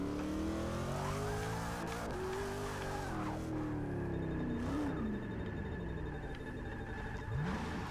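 Car racing and skidding in the video game Forza 6 Apex, an engine revving up and down through gear changes with repeated tire squeals, loud and close without talk.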